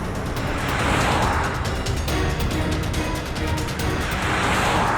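A car is towed away along a street, heard as a loud, steady broadband rumble of vehicle noise that runs unbroken for the whole stretch.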